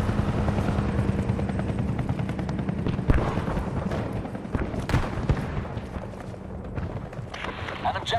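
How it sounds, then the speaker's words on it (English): Enemy helicopter in the video game Battlefield 3, its rotor thrum running steadily under bursts of gunfire and explosions, loud and close with a voice speaking over the battle. "We have an enemy helicopter in the area."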